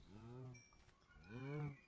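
Two drawn-out moos from a cow in Minecraft, a low harmonic call, then a pause, then a second slightly louder call, close and alone without talk.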